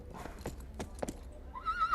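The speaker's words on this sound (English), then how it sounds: "No messing about. Horse is ready." A horse's hooves clip-clop in several crisp, close strikes, then the horse gives a loud, wavering neigh that rises at the end.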